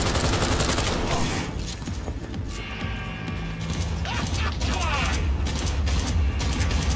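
Gunfire in the video game Cyberpunk 2077 played on Xbox Series S: loud, continuous automatic bursts with metallic mechanical clatter and crashing impacts, filling the whole stretch with dense, unbroken noise.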